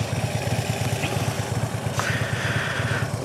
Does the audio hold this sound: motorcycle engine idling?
yes